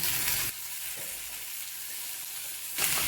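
Tomatoes hitting hot oil in a pan for a mutter paneer curry, a loud bright sizzle at first that settles into a softer steady frying hiss, then flares up again briefly at the end.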